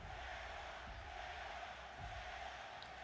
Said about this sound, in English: This crowd firmly behind Kevin Owens, though.